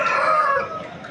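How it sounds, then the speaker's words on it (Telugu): A young rooster at a rooster market in Vijayawada lets out a single loud, close crow that fades at the end. "పట్టా పుంజు పిల్ల ఇది."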